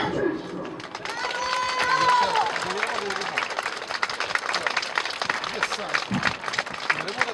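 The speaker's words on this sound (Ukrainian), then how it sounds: "Дякуємо за такі чутливі слова з гучними оплесками." An audience on a town's central square in Sievierodonetsk breaks into applause after a dramatic monologue. Scattered claps build into a dense patter, and speech sounds over part of it.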